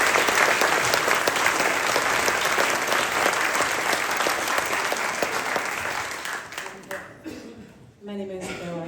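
Audience applause at a Christmas choir concert: a full hall claps loudly and continuously, the sound thinning and fading over the final seconds before a voice begins to speak.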